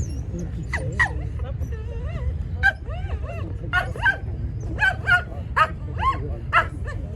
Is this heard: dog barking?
yes